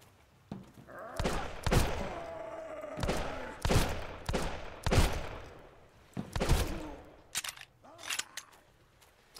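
Gunfire in the survival game Sunkenland rings out in a series of sharp, booming shots at irregular intervals, some paired, with ringing tails and faint background sounds between them.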